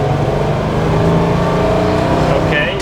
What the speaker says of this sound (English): I love the transmission whine when it's in gear. It sounds like a race car.